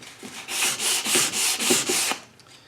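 Sandpaper worked by hand along the curved wooden edge of a coffee table: about six steady back-and-forth rasping strokes, close and clear, with no talking.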